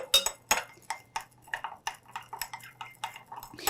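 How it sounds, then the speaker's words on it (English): A glass rod or spoon clinks and taps rapidly against a glass beaker while stirring sodium hydroxide solution into water, light irregular chinks close up in a quiet room. "I'll add sodium hydroxide there and mix it well."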